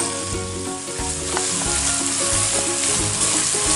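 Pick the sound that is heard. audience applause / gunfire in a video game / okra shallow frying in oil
okra shallow frying in oil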